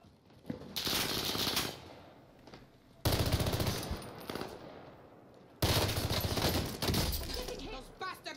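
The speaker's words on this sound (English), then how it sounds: "Those bastards are shooting at me." Automatic gunfire in the video game Call of Duty: Warzone comes in three loud sustained bursts separated by short gaps, with voices talking over the shooting.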